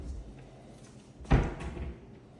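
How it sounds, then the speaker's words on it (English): A push-to-open handleless pantry cabinet door with shelves in a modern European kitchen gives one short, fairly loud knock or click about midway, set against quiet room tone with no talk. "Pantry cabinet, push-to-open handless system with shelves"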